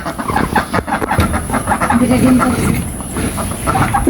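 Village hens clucking close by in a rural yard, short repeated clucks and fowl calls over an ambient background with a faint steady tone.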